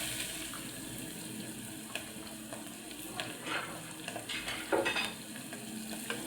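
Cumin, asafoetida and onion fry in oil for masala khichdi, a soft steady sizzle with light stirring scrapes and a few faint clinks, moderately quiet and close, no talking.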